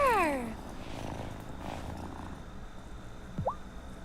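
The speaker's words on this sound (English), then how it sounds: "Listen to that purr." A soft, continuous video game cat purr with faint chirpy tones, with no speech over it.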